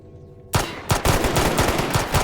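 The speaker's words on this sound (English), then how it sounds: "they keep hearing the gunshots here in the tunnels" Automatic gunfire in underground tunnels in the S.T.A.L.K.E.R. video game. A sudden loud burst is followed by rapid, continuous shots with a booming, echoing tail.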